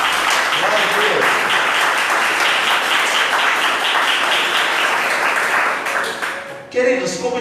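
Church congregation applauding during a family worship service, a dense, steady wash of clapping sustained at full level for several seconds before it fades and a voice begins speaking.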